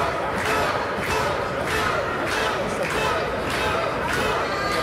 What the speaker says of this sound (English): The crowd is trying to get behind Luke Logan here.